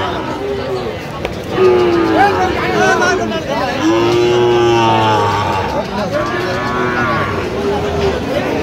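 Sahiwal calves and cattle at a cattle market in Kurigram, Bangladesh, low drawn-out moos repeating several times close by, with people chattering in the background.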